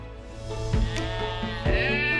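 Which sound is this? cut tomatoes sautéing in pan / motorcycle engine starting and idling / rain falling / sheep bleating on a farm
sheep bleating on a farm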